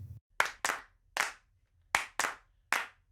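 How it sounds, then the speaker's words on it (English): Six separate hand claps recorded a step back from the microphone in a studio session, sharp and roomy with short decaying tails, spaced unevenly apart in a quiet space with nothing else heard. "we recorded a few, we called these claps big, which I think we just stepped away from the microphone for these"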